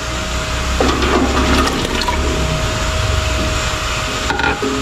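Sweet potatoes go into a pot of hot, steaming water, making a loud, close rushing and bubbling sound with a brief clatter near the end.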